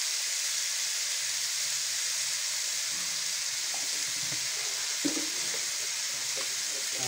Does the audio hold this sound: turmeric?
yes